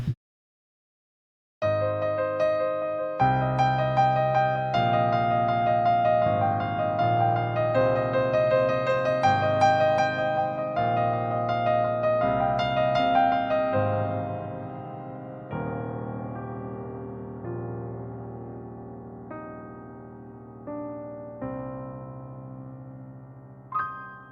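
Quiet improvised piano tune played solo, a gentle melody over sustained chords that starts after a short silence, holds steady for a while, then softens toward the end.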